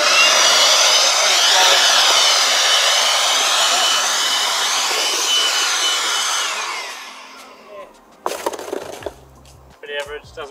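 A Makita 18V cordless leaf blower runs with a steady, loud broadband whoosh for about seven seconds, then spins down, followed by a few brief handling clatters and knocks.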